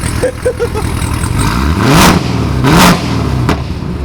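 Modified Corvette ZR1 V8 with long-tube headers and an X-pipe revs loudly twice in quick succession, each rise surging to a roaring peak before dropping back to a rumbling idle, with a sharp pop near the end.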